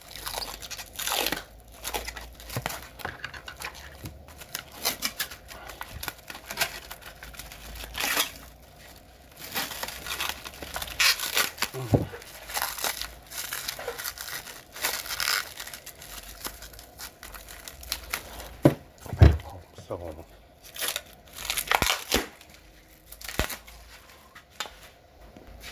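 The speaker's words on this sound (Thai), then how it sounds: "ก็ต้องแพ็คให้ดีนะครับกันกระแทกกันเลอะเทอะ" Crinkling and crunching of wrapping material as a parcel holding a 12V 250W motor and speed controller is packed for shipping, in irregular close bursts with no talk.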